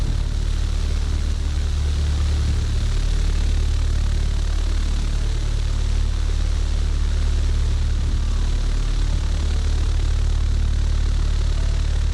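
Propeller airplane engine in Microsoft Flight Simulator, a loud, constant droning roar with heavy low rumble, steady and close throughout with no pauses.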